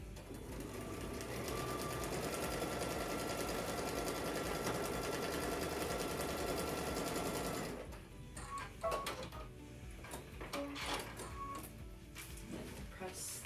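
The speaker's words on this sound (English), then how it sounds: "Now we're sewing on line number 4." A sewing machine stitching a quilt panel runs in a steady, fast, dense whir for several seconds, then stops, leaving quieter handling clicks and rustles.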